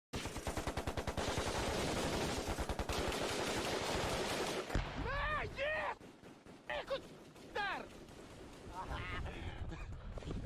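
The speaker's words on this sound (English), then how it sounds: "It's a constant stream of gunfire." Rapid, sustained automatic gunfire plays back from a war video in Ukraine as one dense continuous burst for several seconds. Shouting voices follow, with scattered shots heard after the burst.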